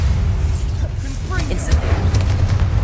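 A Bombarda spell explosion in the game Hogwarts Legacy, a heavy low boom that rumbles steadily through the short stretch, loud and close, with faint higher effects layered above.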